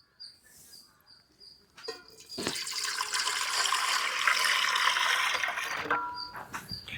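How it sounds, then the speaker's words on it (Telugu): Water pours steadily into a wide cooking pot set on a stove, a continuous splashing rush that builds after a brief start and holds for several seconds, with light clinks and faint chirps in the background. "పొయ్యి మీద పెట్టుకొని తగినన్ని నీళ్లు పోసుకుందాం."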